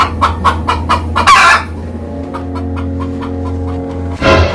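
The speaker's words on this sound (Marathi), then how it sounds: "अरे भावानू कोंबड्याचं खुराड आहे तिथं" Chickens in a coop cluck in a quick series of loud, close bursts, followed by a steady drawn-out rooster-like call and a final squawk.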